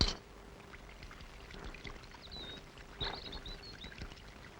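Sambar is poured at a meal, a quiet, liquid pouring sound close by that trickles on for several seconds with small splashes, with no talk over it.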